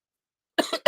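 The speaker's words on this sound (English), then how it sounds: "Sorry about the coughing." A person on a casual evening live stream coughs twice in quick succession, close and fairly loud after a moment of silence.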